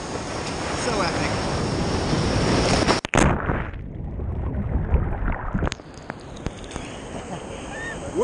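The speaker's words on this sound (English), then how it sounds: "Big set coming in. These waves got nothing on us." Ocean waves rolling in and breaking on a Rio de Janeiro beach, a loud continuous wash of surf with wind rumble, a brief sharp dip midway, then the roar resuming.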